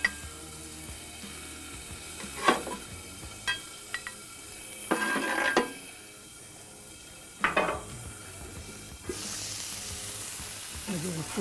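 A burger fries on a hot surface under added steam, a continuous close sizzle broken by louder bursts of hiss and scattered clinks of metal utensils and dishes.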